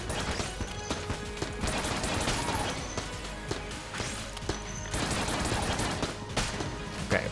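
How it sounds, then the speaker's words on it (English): Enemies in the video game Enter the Gungeon firing rapid, chaotic volleys of shots with crashes and impacts, loud and continuous over a busy musical game background. "Okay, please stop shooting."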